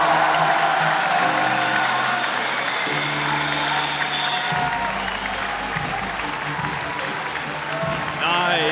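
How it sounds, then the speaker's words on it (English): A standing crowd at a speedcubing world championship applauds Australian cuber Felix Zemdegs, loud sustained clapping and cheering with a voice talking over it throughout. "Australians standing up, applauding him."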